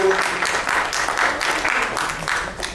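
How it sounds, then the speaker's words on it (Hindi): Loud, dense audience applause at a women's celebrity cricket event, a brief continuous burst of clapping with voices mixed in. "ये जोरदार तालियां हो गई।"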